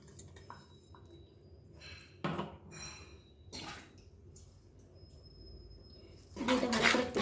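Coconut paste and curd are mixed by hand in a bowl. Soft, faint squishing and wet dabs come in short bursts with quiet pauses between them.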